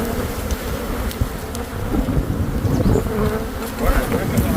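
Africanized killer bees swarm around a hive outdoors during the April 2024 eclipse, a steady, loud, dense buzzing drone that fills the whole stretch, with individual bees passing close.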